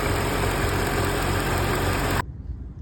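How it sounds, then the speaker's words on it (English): Mercedes CL55 with the M113k engine idling, its serpentine belt tensioner in question; a steady, close, broadband engine hum with faint whine, cutting off abruptly near the end. "With the engine running, you can hear the sound."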